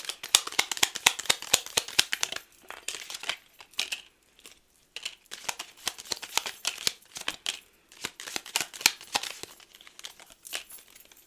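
A deck of mantra affirmation cards is shuffled by hand, the cards riffling and slapping in rapid clustered bursts with brief pauses, close and crisp, with no talking.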